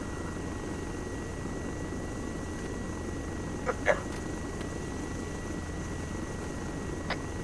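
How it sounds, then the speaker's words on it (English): A helicopter in the Arma 3 video game drones steadily at a distance, with a faint rotor hum under the mix and a couple of brief clicks and blips partway through. "the heli."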